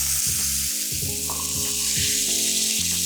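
Loud, continuous sizzling of meat frying in a hot pan, with crackling spatter and occasional scraping as it is stirred or moved.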